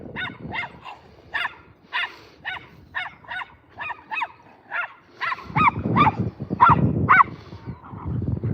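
Several dogs at a pet services yard bark in a steady run of repeated woofs, close and fairly loud, with rumbling outdoor noise growing louder in the second half.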